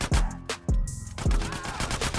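Gunfire in GTA San Andreas: several sharp, loud bursts of shots in quick succession with echoing tails.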